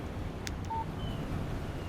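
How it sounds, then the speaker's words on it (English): A short electronic text-message alert from a phone in the video game Alan Wake Remastered: a brief high chirp and a clean tone over a low, steady background hum. "Text message from Barry."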